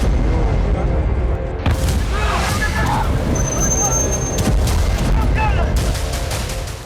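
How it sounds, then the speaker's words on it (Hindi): Air defense interceptions of Iranian ballistic missiles over Tel Aviv, Israel, heard as distant booms and rumbling bursts under a continuous crowd hubbub with voices talking throughout. "इजराइल के डिफेंस सिस्टम एक्टिवेट हो गए और मिसाइलों को हवा में नष्ट करने लगे।"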